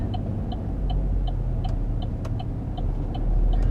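A car backing out during a driving-test manoeuvre on a housing estate road, a low steady engine rumble from inside the cabin with a regular ticking indicator over it.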